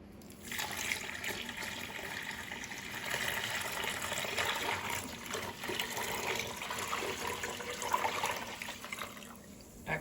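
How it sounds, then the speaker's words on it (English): A gallon of water pours steadily into a container for a salmon brine already mixed with garlic powder, a continuous splashing rush from start to finish, close and fairly loud, with no talking. "go ahead and pour 1 gallon of water in there"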